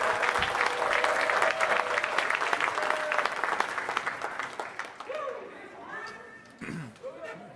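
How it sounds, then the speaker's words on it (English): Crowd applause at a Flatoberfest 2022 presentation, loud steady clapping with some cheering that gradually thins out and fades, leaving voices and chatter over the last few seconds. "Give him a round of applause."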